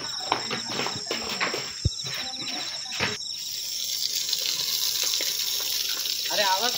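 Water runs from a tap indoors in a steady, hissing stream that swells and fills the space, under conversation between people, with crickets chirping faintly in the background.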